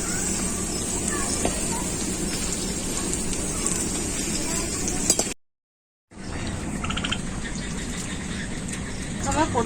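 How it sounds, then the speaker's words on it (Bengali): Battered capsicum chillies frying in hot oil give a steady, dense crackling hiss that fills the clip, broken by a brief drop-out near the middle before resuming. "ক্যাপসিকাম লঙ্কা দিয়ে ভেজে নিচ্ছি।"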